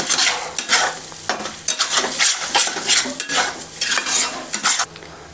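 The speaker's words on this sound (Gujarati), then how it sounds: "આપણે છીણેલા ડોડાને મસાલા સાથે મિક્સ કરી લેવાના છે" A spoon scrapes and stirs grated corn with garlic-chili spice paste in a pan, with rhythmic clinks against the metal over a soft sizzle, close and busy.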